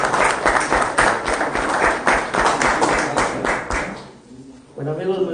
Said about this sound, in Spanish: el cual recibimos con fuertes aplausos por la vida del fraterno